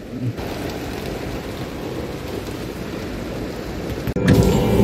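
Heavy rain pelting a car during a ride-hailing shift in Kuala Lumpur, heard from inside the cabin as a steady close rush of drops on the roof, with a sharp louder burst near the end.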